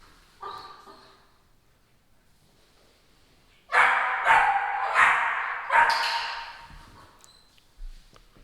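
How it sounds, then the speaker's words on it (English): A puppy yips once, then after a pause lets out a burst of several sharp, close barks in quick succession, ending with one more yip. "We have to ignore the barking"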